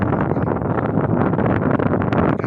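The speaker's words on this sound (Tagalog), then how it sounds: "malakas ang hangin dahil daw mahirap talaga" Strong wind buffets the microphone in loud, continuous rumbling gusts, roaring without a break for a couple of seconds.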